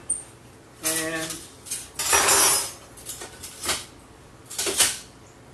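A small bowl and whisk are handled in a kitchen: several bright clinks, knocks and clattering bursts of metal and crockery, spaced irregularly and close by.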